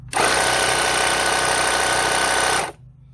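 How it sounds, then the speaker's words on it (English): A Wagan Power Dome's built-in air compressor runs loud and steady for about two and a half seconds, a harsh mechanical buzz with a dense rattle, then cuts off abruptly, leaving a faint low hum. "We check the compressor."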